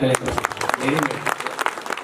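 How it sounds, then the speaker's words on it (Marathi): An audience at a Marathi lecture event breaks into brief applause, a burst of crowd clapping with voices talking over it. "टाळ्या वाजवा"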